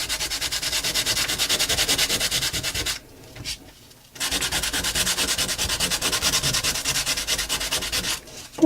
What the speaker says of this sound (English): Got a little carried away with my sanding.